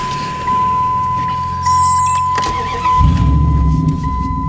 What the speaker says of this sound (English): Someone's hauling ass down this road.